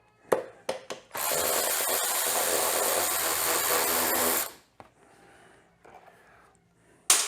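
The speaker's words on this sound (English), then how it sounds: "I never thought I'd use an electric ratchet as much as I do." Electric ratchet spinning bolts out while working on a Yamaha TTR110 motorcycle, a steady loud whirring burst of about three seconds after a few short clicks, then quieter handling noises and a final brief burst.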